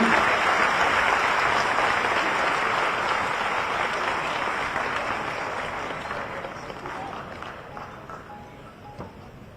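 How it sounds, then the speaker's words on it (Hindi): Thunderous applause greets Chief Minister Shivraj Singh Chouhan taking the stage at a Bhopal event, a dense, loud roar of many clapping hands that gradually tapers off over about ten seconds. "तालियों की गड़गड़ाहट से उनका स्वागत होना चाहिए"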